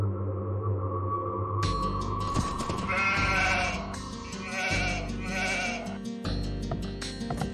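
Sheep bleating in the Age of Empires 2 video game, with wavering game-style bleats over steady in-game background sound and a sonar-like tone, moderately loud, no talking.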